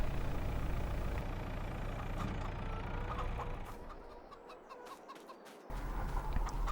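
Chickens cluck faintly in Farming Simulator 22, a few soft clucks over a steady engine-like drone that drops away midway and then returns; no talking.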